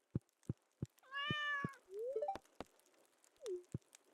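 A cartoonish cat meows twice in the Stardew Valley video game, clear pitched mews among soft regular game tapping sounds, alone without talk.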